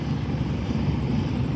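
A helicopter's steady low engine drone with rhythmic rotor thumping over the sea at Wan Chai harbourfront, Hong Kong, continuous and moderately loud, heard alone with no talking.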